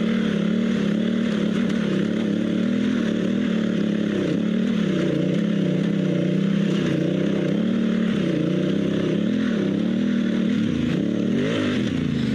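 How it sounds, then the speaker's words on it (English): A motorcycle on budget knobby tires (Shinko E804/E805 or Kenda K784 Big Block) climbs a hill at high RPM, its engine droning loud, close and continuous with slight rises and dips in pitch. "the higher RPM was the bike was super stable and just tracked straight up the hill"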